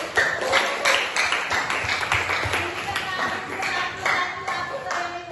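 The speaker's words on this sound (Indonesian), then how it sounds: "Tepuk tangan." Classroom of high school students clapping hands together in loose, repeated bursts with an uneven rhythm, fairly close, with voices mixed in among the claps.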